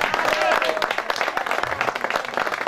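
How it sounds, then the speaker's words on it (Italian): Audience applause at a live Taurino show in 2014, a steady wash of many hands clapping at moderate volume with a voice talking over it. "Fate un applauso"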